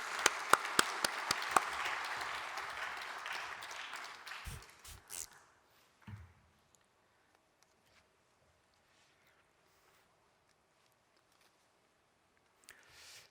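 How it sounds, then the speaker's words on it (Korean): A church audience at a pastors' and elders' prayer meeting welcomes a lecturer with a burst of applause that fades over five seconds into near silence. A few soft footsteps and a faint sound follow near the end. "박수로 맞아주시기 바랍니다"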